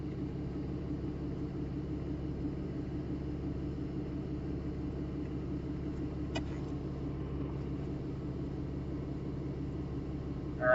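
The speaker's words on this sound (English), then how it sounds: "what I'm doing here is I'm adding load slowly, holding the RPM steady with the dyno" Turbocharged Subaru-style 2.34 L engine with a GTX3071R turbo held at steady RPM under load on a dyno, a constant low droning rumble with a smooth even tone, fairly quiet and without talk.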